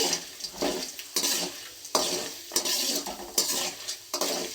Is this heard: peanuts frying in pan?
yes